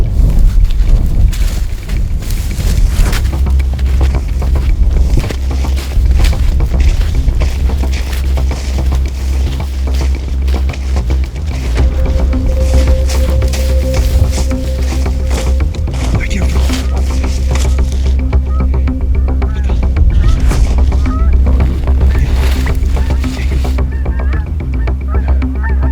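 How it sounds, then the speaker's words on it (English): Strong wind buffets the microphone outdoors during a deer bowhunt, a loud, continuous low rumble with gusty swells that lasts the whole stretch, with faint sounds beneath it. "Real windy now. The wind should work in our favor."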